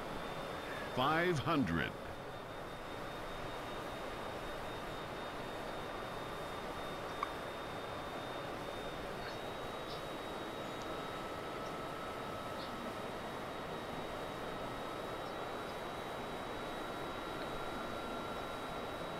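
A steady, faint aircraft engine drone and broadband rumble from Microsoft Flight Simulator 2020 over Belmullet, Ireland, holds throughout under a thin high tone, with a brief spoken voice near the start.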